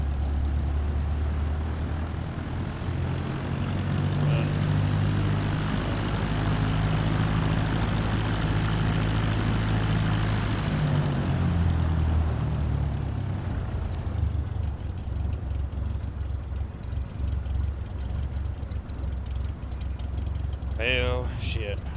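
An airplane lands on a large runway, a steady loud engine drone with a sweeping pitch change, ending in a short rattling touchdown burst.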